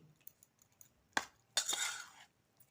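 Vegetables are tossed with sugar in a bowl, giving a few quiet, close clinks and scrapes of utensil on the dish with short gaps of near silence between them.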